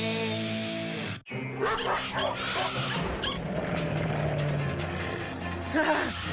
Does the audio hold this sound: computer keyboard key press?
no